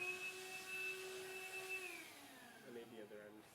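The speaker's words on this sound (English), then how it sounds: "Go on, hoover it up." Vacuum cleaner hoovering up leftover biscuit crumbs indoors, a steady whining drone that drops in pitch partway through as the motor note bends down, with faint background sounds and no clear speech.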